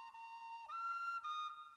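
A small whistle blown in steady held tones that shift pitch a couple of times, clear and fairly close, with no one talking.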